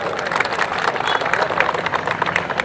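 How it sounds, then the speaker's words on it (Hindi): A dense, steady wash of crowd clapping fills a protest rally of workers in Jharkhand, sustained at an even level throughout without a break. "अगर सही लगेगा तो तालियों में बजाकर स्वागत करिए।"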